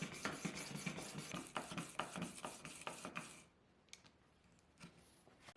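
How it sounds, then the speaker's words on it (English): A steel chisel is pushed back and forth over a diamond plate in a FASTTRACK Mk2 sharpening guide, producing a steady rhythmic rasping close up that stops abruptly, leaving a few faint clicks. "Then move the carriage forward and start sharpening until you raise a burr across the entire width of the flat of the chisel."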